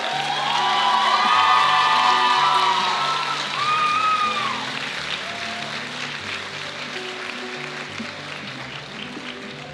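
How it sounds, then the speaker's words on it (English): A crowd claps and cheers loudly at a Hudson Ambassador coronation, with shrill whoops in the first seconds, then the clapping thins and fades to a lighter patter. "Let's give all of these wonderful candidates a round of applause."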